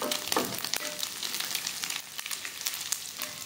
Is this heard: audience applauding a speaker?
no